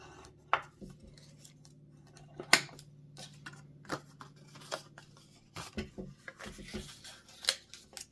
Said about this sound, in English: we're going to fold along all score lines and use a bone folder to make a nice